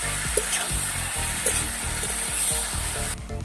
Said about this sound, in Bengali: হাফ চামচের কম হলুদ দিয়ে সবজিগুলো আমি কিছুক্ষণ ভেজে নিচ্ছি